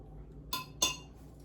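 Two light metallic clinks of an MRE spoon while crab rangoon is being filled, close and fairly faint, spaced about a quarter second apart over a quiet background.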